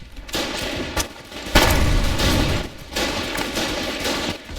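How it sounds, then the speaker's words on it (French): Repeated explosive gunfire bursts from a grenade launcher in the war video game Foxhole, loud and close, with sharp blasts separated by brief gaps and a continuous battle din underneath. "tire des grenades"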